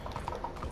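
Horse hooves in Red Dead Redemption 2 clop softly and quickly in an uneven rhythm, a brief, fairly faint burst of galloping steps.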